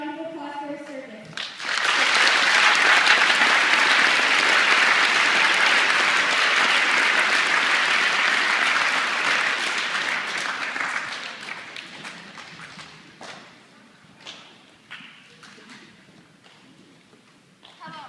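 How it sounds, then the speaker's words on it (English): An audience at a Veterans Day program in Groton breaks into loud, sustained applause for an Army veteran, swelling quickly, then tapering into scattered claps and a few thumps by the end. "Please give Glenn a round of applause for his service."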